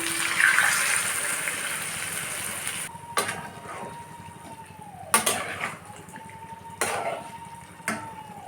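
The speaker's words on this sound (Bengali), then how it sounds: "বাটিটাকে ধুয়ে সামান্য একটু জল দিয়ে দেবো" Water from a rinsed bowl splashes into a cooking pot of jackfruit curry in a short gushing pour, followed by several sharp metallic clinks and taps against the pot.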